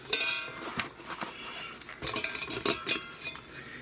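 A camping stove and cookware are packed into a pot, with metallic clinks, clatters and scraping of pans and utensils close up and continuous, no talk.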